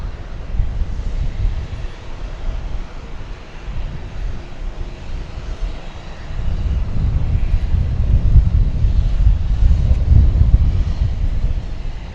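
A passenger airplane takes off at DFW Airport: a broad, steady jet-engine roar that swells louder about halfway through and holds, with some wind buffeting and no voices.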